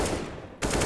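Automatic rifle fire in a professional CS:GO match on the Nuke map: a loud burst of shots, a brief near-silent gap, then another close burst of rapid fire.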